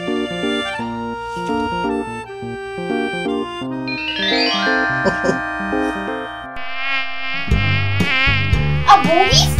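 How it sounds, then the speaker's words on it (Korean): A high, thin mosquito whine buzzes steadily over layered electronic tones and music in a home bedroom at night, loud and close throughout with no speech. "아, 모기 있어, 모기!"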